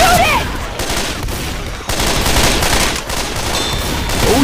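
Dense gunfire from weapons in the video game Left 4 Dead 2 during a modded city survival match, a continuous loud barrage of overlapping shots with brief dips, and faint voices mixed in.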